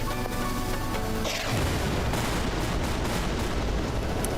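Loud, sustained gunfire from a video game shooter, a roaring continuous burst that swells and holds steady throughout with no pauses.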